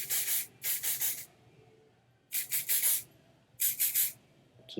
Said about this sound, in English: Grabbing my hairspray.